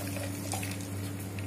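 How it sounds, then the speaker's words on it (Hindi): Water is poured into a juicer jar for homemade litchi juice, a steady close rushing and splashing that runs unbroken for about a second and a half over a low background hum. "और 2 गिलास पानी डाल देंगे।"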